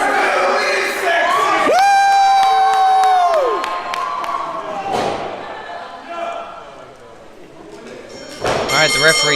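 A wrestling show crowd in a small hall erupts into loud cheering and high-pitched shouts, with a sustained screaming swell that fades into murmuring before another burst of yelling at the end.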